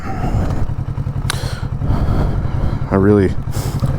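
A motorcycle comes to a stop at a red light, its engine a low steady idle-like rumble close by with a brief clatter and a rising tonal whine near the end, heard under talking.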